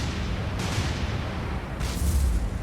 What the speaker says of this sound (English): Huge secondary explosion.